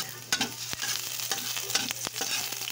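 Garlic sautéing in hot cooking oil, a continuous sizzle and crackle with a few utensil knocks and scrapes against the pan, close up and without talk.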